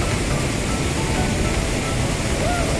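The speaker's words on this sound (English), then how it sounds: "In any direction you can see, there are small waterfalls everywhere." Small waterfalls in the Wimbachklamm gorge in Germany, a loud, continuous broadband rush of falling water that stays steady and unbroken, with no voices heard.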